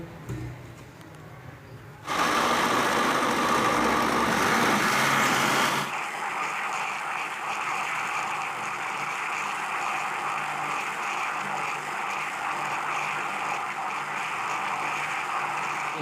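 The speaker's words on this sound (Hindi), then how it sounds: "अब हम इसको ग्राइंड कर लेंगे।" A blender grinds peaches with honey, lemon juice and half a glass of water into juice, starting after a quiet moment with a loud, steady whir for about four seconds, then dropping to a lower sustained running hum.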